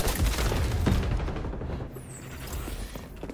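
Grenade blasts and rapid gunfire in the shooter game XDefiant, loud overlapping bursts packed into a few seconds, heaviest at the start and easing slightly toward the end.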